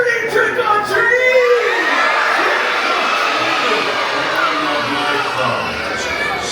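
Audience on a Disney cruise ship shouts together at a Halloween stage show, a loud sustained burst of yelling and cheering from a large crowd that slowly settles into a steady roar.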